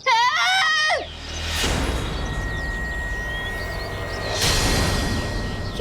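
A woman gives a short, loud, high scream at the start, followed by a dramatic rumbling soundtrack with swelling whooshes.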